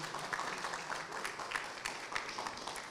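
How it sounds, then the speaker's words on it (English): Applause from an audience at an AIChE meeting, a steady dense patter of many hands clapping together for about three seconds, fairly even in level with no voices on top. "So let's give a good round of applause for that."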